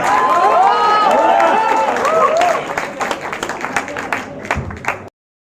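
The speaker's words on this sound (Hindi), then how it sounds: "जोरदार तालियों से स्वागत करिए आदर्श जैन सर का।" A crowd at a poetry event cheers and whistles loudly while clapping, the whoops fading after a couple of seconds and leaving scattered applause that dies away.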